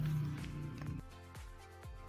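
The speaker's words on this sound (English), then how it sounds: "Actually, this is the noise of the traffic." Road traffic outside a room beside the road, a faint low rumble with a few vehicles swishing past one after another.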